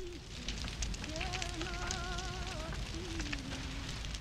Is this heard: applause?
no